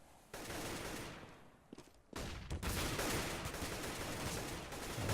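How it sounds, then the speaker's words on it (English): AK-47 fire in Counter-Strike comes in dense rapid bursts, loud and close, starting after a brief quiet moment, pausing near the two-second mark, then resuming as sustained automatic gunfire with no talk over it. "There's the AK-47 kill from Angel."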